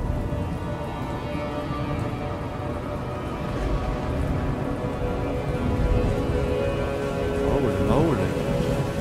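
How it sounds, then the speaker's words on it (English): Steady rain pours in a video game storm, a dense even hiss that swells slightly midway, with no distinct thunder crack standing out. "Storm is brewing."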